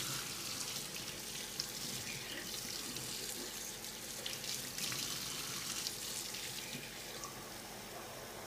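Water runs steadily from a tap while a Dyson DC56 HandVac filter is rinsed, a constant close hiss and splash with no pauses and no talking.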